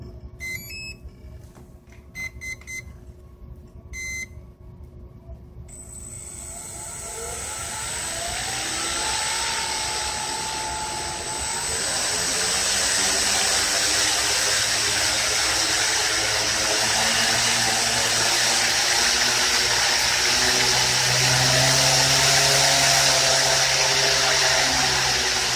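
An electric motor on a test rig, run at a manually controlled speed, starts up after a few clicks and spins up to a steady, loud whir with a rising pitch that holds alone to the end.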